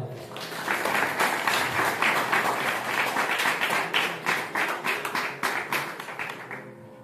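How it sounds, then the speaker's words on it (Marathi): An audience at a village stage event honouring a pakhawaj master breaks into loud sustained applause, many hands clapping at once before the clapping thins out toward the end. "सर्वांनी टाळ्या वाजवा"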